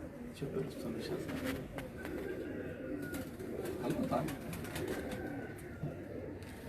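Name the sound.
pigeons cooing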